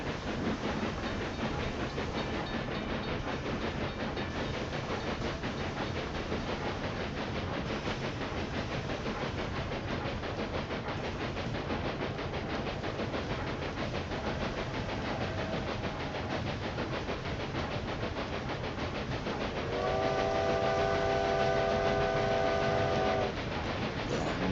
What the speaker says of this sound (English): You see the train coming in from the right, crossing the bridge while we are passing Hungary.